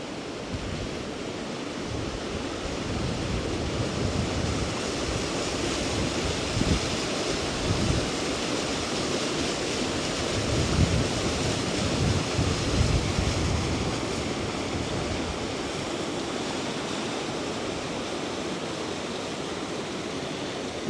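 Rushing river water at the Injebreck waterfalls on the Isle of Man, a steady loud broadband roar of tumbling water that holds constant throughout with no voices.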